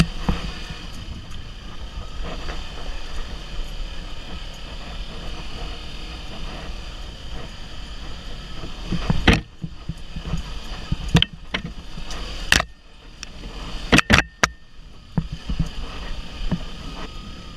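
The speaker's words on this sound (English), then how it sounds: "That's the engine in first gear" A motorcycle on the Dawson Ridge trail is held in first gear, its engine a steady, close drone with wind rushing over it. Sharp knocks and thumps cut in as the bike rides over bumps.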